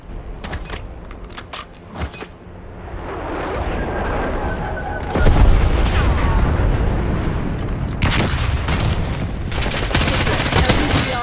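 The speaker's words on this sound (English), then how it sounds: "Enemy napalm strike incoming." Rolling napalm-strike explosions and bursts of gunfire in Call of Duty Black Ops 6, loud and sustained as a dense roaring wash with sharp cracks scattered over it.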